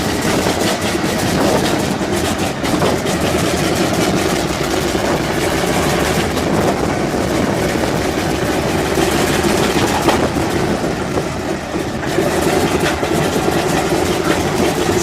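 An Antonov aircraft engine runs steadily after starting first time, a loud, continuous rumbling roar with heavy low-end drone and rattling texture, close by and unbroken throughout.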